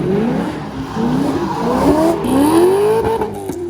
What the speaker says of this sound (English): Donuts in the parking lot.